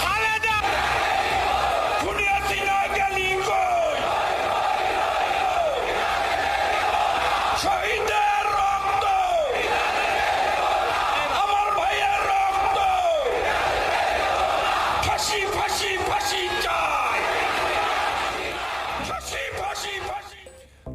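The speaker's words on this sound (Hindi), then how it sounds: "नारेबाजी, हर्षोल्लास का माहौल वहां पर है" A large crowd in Bangladesh celebrates a change of government with loud, rhythmic slogan chanting, repeated call-and-response shouts swelling every few seconds, roaring and close, fading slightly at the end.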